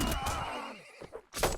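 A horse whinnies once in a video game, a short falling neigh followed by a couple of thuds amid battle noise.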